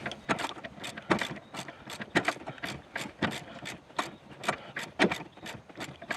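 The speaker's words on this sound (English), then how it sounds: "I am now taking that last bolt out" Bolt being worked loose from the frame of a Dodge Neon: a run of sharp metallic ratcheting clicks in quick irregular bursts, close and moderately loud, with no talking.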